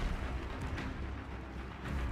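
Confringo spell explosions in the Hogwarts Legacy video game form a dense, rumbling blast with a continuous low roar and no pauses.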